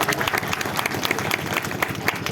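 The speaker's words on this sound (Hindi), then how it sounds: "यहाँ से वहां तक एक बार रमेश जी के नाम पे सारे लोग तालियां बजा दें।" A crowd at a poetry gathering (kavi sammelan and mushaira) held at a death-anniversary memorial claps together in a lively round. Sharp individual claps overlap steadily and close by, with no talking.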